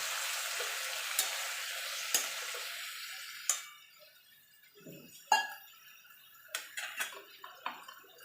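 Mixed vegetable curry simmers in a pan with a soft hiss that fades partway through, dotted by scattered sharp clinks and ticks of a spatula against the pan, with no voices.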